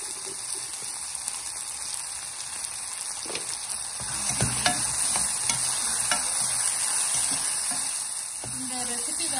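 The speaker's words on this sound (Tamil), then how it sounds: "இந்த வெங்காயம் வந்து கொஞ்ச நேரம் வதங்கட்டும்." Onions sauté in a pan for a Chettinad eggplant side dish, a steady close sizzle and hiss filling the scene throughout, with occasional stirring scrapes and taps.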